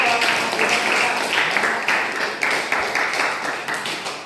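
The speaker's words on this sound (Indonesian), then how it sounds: "tepuk tangan dulu" Audience applause at an Indonesian school project session, a steady wash of many hands clapping at moderate volume that carries on for several seconds and slowly tapers.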